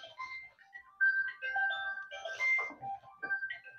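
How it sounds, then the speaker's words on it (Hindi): A mobile phone rings with a bright electronic ringtone melody of warbling, tune-like notes that carries on throughout at moderate volume. "बेटे ये सुन लो किसका फोन है।"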